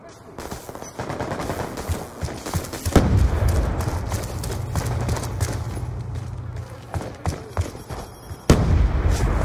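In Call of Duty 2, a grenade explosion booms with a deep rumble amid steady gunfire, followed later by a second sharp blast, the battle noise loud and continuous throughout.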